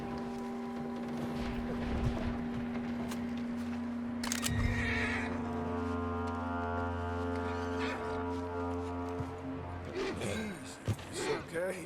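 In Red Dead Redemption 2, a horse gives a long, loud whinny, then snorts and shifts about under a steady sustained drone, with voices speaking partway through.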